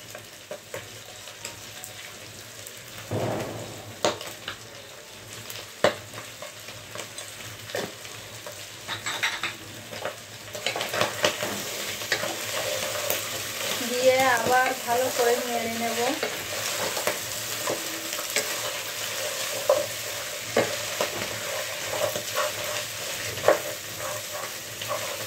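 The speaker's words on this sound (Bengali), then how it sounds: "মাথাটা ভালো করে ভাজি করে নিয়েছি" A large katla fish head fries in a pan with a steady close sizzle, accompanied by repeated scraping and clinking of a spatula against the metal as it is stirred and turned, no talk.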